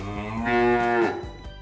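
A single long, low cow moo, close and steady, rising slightly before trailing off, with nothing else around it.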